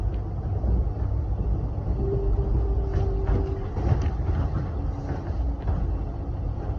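A steady low rumble of a metro train rolling along rails from Glenferrie toward Flinders Street, with faint rattles and a brief squealing tone partway through, continuous throughout.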